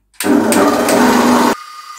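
An electric mixer whirs loudly as it starts beating chocolate steamed pudding batter in a bowl, a steady close motor drone lasting just over a second before cutting off.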